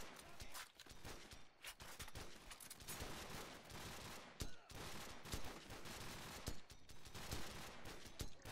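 Rapid bursts of gunfire from a Call of Duty 4: Modern Warfare match, sharp repeated shots with short gaps between volleys, fairly quiet overall and with no clear talking.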